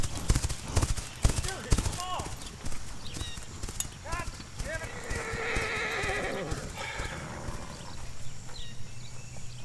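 A horse whinnies repeatedly, close and loud, while hooves clip-clop steadily underneath, with other outdoor noise around it.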